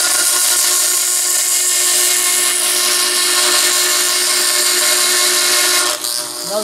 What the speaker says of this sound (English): I'm sawing on the right side of the line